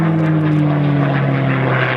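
P-51 Mustang propeller fighter engine, a loud, close, continuous droning roar with a strong steady low hum throughout.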